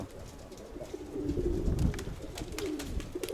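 A pigeon cooing close by, a low throaty rolling call rising in the middle, with faint background noise and no talking.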